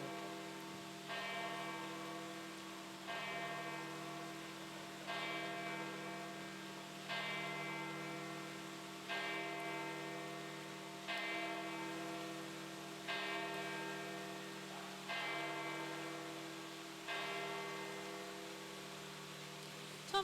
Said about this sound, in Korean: 참 별거 아닌 종소리인데 들으면 괜히 마음이 좀 먹먹해지죠